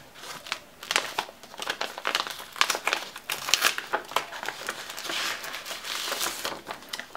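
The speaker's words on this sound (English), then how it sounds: "inside the kind of heavy-duty mailing envelope, there it sits here in another envelope." A heavy-duty paper mailing envelope handled and unwrapped, giving a continuous close-up crinkling and rustling with irregular crisp crackles, with no one talking.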